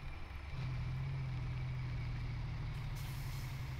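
A truck's engine brake engages when the throttle is lifted in Farming Simulator 17 on the Oregon map, a steady loud droning rumble with a hissing layer that holds for several seconds.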